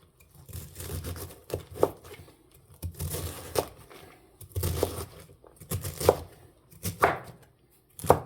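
Fresh cabbage being chopped finely with a knife on a board, brisk bursts of crisp cutting strokes in uneven clusters with short pauses between them, close and fairly loud.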